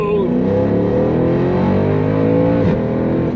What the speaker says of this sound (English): I can just give you a nice taste of what acceleration is like